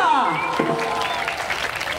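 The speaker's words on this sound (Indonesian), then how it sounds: "Beri tepuk tangan yang meriah sekali lagi untuk Rampak Penduduk Ponpes Darul Huda." A crowd applauds a Rampak performance by Ponpes Darul Huda at a community event in Curug, Tangerang Selatan. Steady clapping runs throughout, overlaid with a tonal sweep and a brief voice early on.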